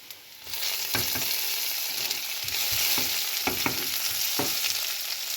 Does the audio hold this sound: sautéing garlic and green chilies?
yes